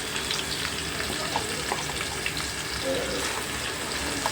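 Ajwain tempering frying in hot oil for rasam, a dense, even sizzle with crackling pops, close and moderately quiet, continuous throughout without talk.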